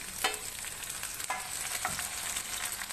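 Carrot, drumstick and other vegetables fry in a pan for sambar rice, giving a soft, continuous sizzle with a few light stirring scrapes and clicks, fairly quiet and close.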